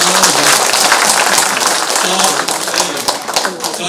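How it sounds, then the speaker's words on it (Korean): Audience at a talk concert with North Korean defectors gives a loud round of applause, close, dense clapping with individual claps popping out, while a voice speaks faintly underneath. "우리 큰 박수 한번 쳐주시면"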